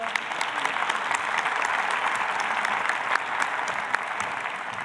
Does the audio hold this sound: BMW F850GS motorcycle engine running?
no